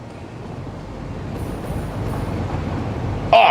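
A train ride in the factory-building video game Satisfactory, with a steady rumbling roll that slowly builds, faint clacks over it and a brief brighter burst at the end, with no talking.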